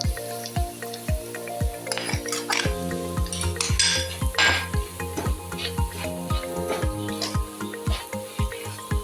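Spice powder roasts in a pan for a fish pickle, with steady scraping and stirring strokes of a metal spoon against the pan in an even rhythm, close and fairly loud, over a light sizzle.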